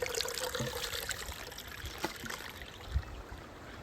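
A forest stream on the Nongriat trek near Rainbow Falls flows and trickles close by, a continuous rushing babble with small splashes and no voices.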